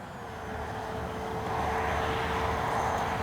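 An FMS Cessna 182 RC model airplane flies overhead with a steady, buzzing motor whine that grows gradually louder as it approaches and holds a constant pitch, outdoors with no voices.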